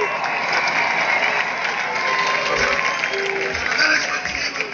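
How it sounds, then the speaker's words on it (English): Loud, sustained crowd applause and cheering at a Clare hurling All-Ireland championship celebration in 2013, a dense continuous wash of clapping with voices mixed in. "Give him a big round of applause."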